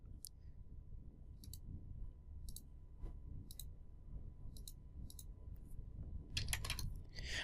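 Computer keys and mouse clicks being tapped in short, separate bursts during CAD modeling work, light and close against a low steady background hum, with a denser flurry of keystrokes near the end.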